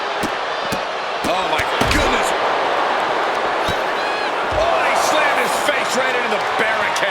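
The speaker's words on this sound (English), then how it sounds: "he slammed his face right into the" A wrestler is slammed face-first into the barricade during a fatal four-way match in a Smackdown vs Raw video game, a sharp impact thud under busy crowd noise and game commentary.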